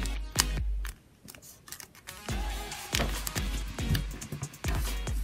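Sharp creases and rustles as paper is folded into a minicar model of the KartRider Specter kart, with several crisp snapping strokes spread through the clip at close range and no talking.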